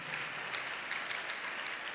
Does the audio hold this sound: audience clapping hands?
yes